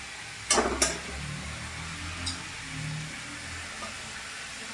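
Onions are dropped into hot oil in a kadai after fish has been fried in it, for a Bengali prawn curry. Two quick sizzling bursts come near the start, then a low, steady crackle of frying continues quietly.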